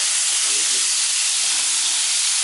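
Fried pork belly sizzles in a hot pan as it is stirred with banana peppers for a Thai stir-fry, giving a loud, steady, unbroken hiss throughout.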